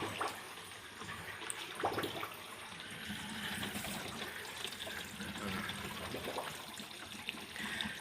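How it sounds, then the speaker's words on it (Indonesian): Water draining out of a leaking washing machine drain line, a continuous rushing gurgle and splash, steady and close for the whole stretch without talking. "Kita buang sekalian airnya."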